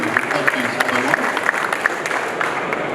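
Applause from an audience at an awards ceremony for installers, honouring the winning companies: steady, dense clapping across the whole stretch with a murmur of crowd underneath and no break.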